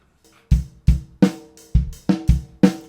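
A kick and snare groove plays steadily, the deep thumps alternating with brighter, crackling snare hits in a regular rock beat.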